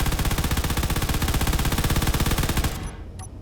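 Rapid automatic gunfire with dense explosions in the Space Engineers video game, loud and continuous for nearly three seconds, then abruptly cutting off to near silence with a faint click.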